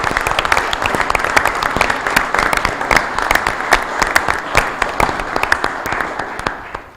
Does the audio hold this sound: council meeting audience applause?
yes